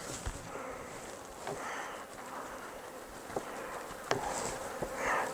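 Honey bees buzz around an open hive box during a mite-check inspection, a dense steady drone with a few sharp bumps and handling knocks.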